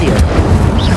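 Incendio fire spell cast in the video game Hogwarts Legacy, a short, loud, rumbling burst of flame with a deep booming low end, heard alone.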